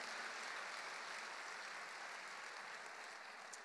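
A church congregation claps together in a steady wash of applause, faint and distant, holding even for a few seconds.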